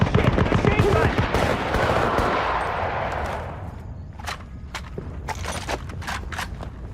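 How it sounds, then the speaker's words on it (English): Loud, rapid machine gun fire in the video game Battlefield: Bad Company rattles for about three seconds and then stops, followed by scattered clatter and scraping sounds. "Machine gun."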